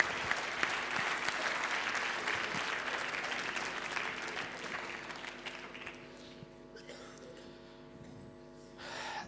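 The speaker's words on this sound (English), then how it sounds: "Give them a very big round of applause" Audience applause at a speech club meeting, a dense crowd clapping that gradually thins toward the end, with a brief renewed burst at the close.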